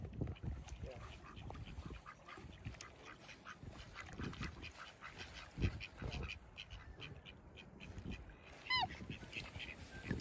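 Muscovy ducks call along a swamp-side bike trail, with scattered quacks and honks over steady outdoor noise and nearby chatter.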